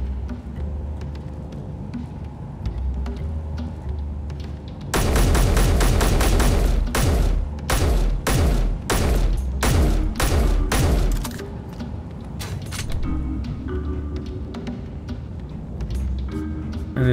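Turrets in the game Space Engineers open fire in a loud burst of rapid, booming shots lasting several seconds, then stop, leaving a low rumbling hum before and after.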